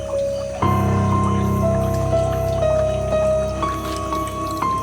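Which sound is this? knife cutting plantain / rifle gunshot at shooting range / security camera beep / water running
water running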